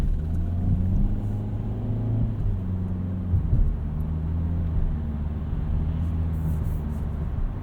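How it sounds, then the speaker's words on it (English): A 2020 Kia Soul X-Line with an IVT transmission cruising at steady speed, giving a low, even cabin drone and engine hum with a faint rumble and no sharp changes. "The engine's very quiet. It kind of all operates in the background"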